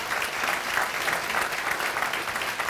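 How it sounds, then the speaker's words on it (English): Dense, steady applause from an audience at a Health Heroes 2017 awards event, honoring the sponsors, sustained and fairly loud with no voices over it. "If we could please have a round of applause for all of our sponsors"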